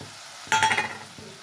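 Spice paste goes into hot oil with tomato for a paneer dish cooked without onion or garlic, setting off a sudden close sizzle and a clink that fade out within a second, heard alone without talking.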